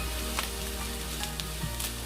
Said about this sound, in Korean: 다시마 물에 이렇게 한 큰술 넣고 불을 살짝 낮춰주세요